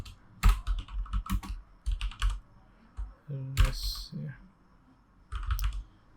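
Code is typed on a computer keyboard in quick bursts of clicking keys, separated by pauses, with someone briefly speaking between bursts.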